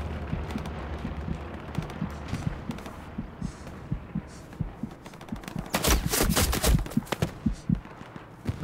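Gunfire in Hell Let Loose, a WWII shooter set around Sainte-Mère-Église with 100 players: repeated sharp shots crack at a moderate distance over a low ambient rumble, with a denser flurry of close, loud rounds partway through.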